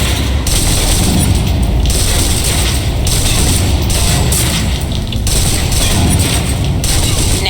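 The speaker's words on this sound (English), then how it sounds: "Now, let's move on to the submachine gun. Now let's empty the clip." A submachine gun in the video game Alpha Protocol empties a full magazine in loud, continuous rapid bursts, with brief pauses between volleys and a steady, dense barrage throughout.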